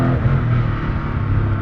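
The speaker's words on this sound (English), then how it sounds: "That was a pop and bang, a massive whip crack on the upshift from the exhaust system." Koenigsegg Agera exhaust pops and bangs with a sharp whip crack on an upshift, loud and close amid a steady engine roar, no voices.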